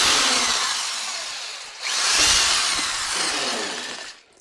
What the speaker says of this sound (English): I'm going to drill a hole through there